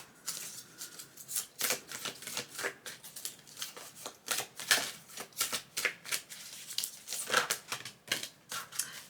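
Tarot cards are shuffled and drawn in a quiet room, making a series of soft, rapid riffling and flicking bursts. The card handling is close and faint, with irregular pauses between handfuls.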